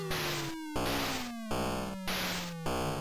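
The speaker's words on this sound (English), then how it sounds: "With the little bong bong sound." Galaxian on the Atari 800 sound effects: repeated bonging tones with a falling pitch sweep, pulsing on and off about every half second amid harsh buzzy noise.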